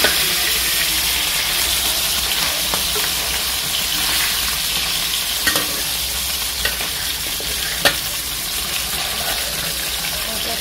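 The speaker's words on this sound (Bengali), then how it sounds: "একটু ভালো করে ভেজে নিব" Brick fish heads frying in hot oil, a steady loud sizzle and crackle that fills the whole stretch, with a few sharp pops and spatters breaking through and no one speaking.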